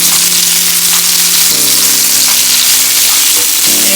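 Shrimp sizzling loudly in a pot on the stove while being flipped, a constant dense frying hiss with a low steady hum underneath and faint clicks of turning.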